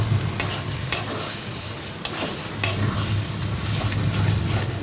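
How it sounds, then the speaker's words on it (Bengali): Bombay duck fish sizzles as it fries dry in a pan, with steady hissing broken by several sharp scrapes and clacks of a spatula stirring it. "এবার আমি ভালো করে মাছগুলোকে নেড়ে দেবো।"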